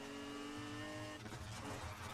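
Mercedes AMG GT S Roadster drifting through a drift zone in the racing game Need for Speed Heat, with a steady loud engine drone and tire noise running continuously without a break.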